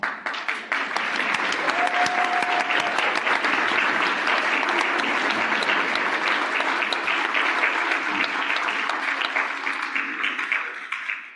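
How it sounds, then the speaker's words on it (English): An awards-ceremony audience applauds its volunteers, a dense, steady wash of many hands clapping that swells quickly, holds loud for about ten seconds, then begins to thin. "So if you're a volunteer, raise your hand so we can applaud you."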